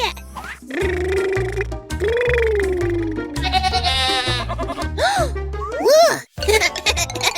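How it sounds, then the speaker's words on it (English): A cartoon goat in a children's show bleats in wavering cries, mixed with cheerful music and cartoon voices. "It's a goat."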